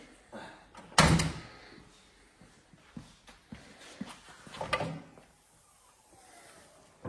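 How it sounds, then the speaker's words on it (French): A sharp, loud thunk, then softer mechanical clicks and a brief hiss as a replica film-taxi car's engine hood swings open on its gas struts. "J'aime bien les bruits des vérins quand tu ouvres."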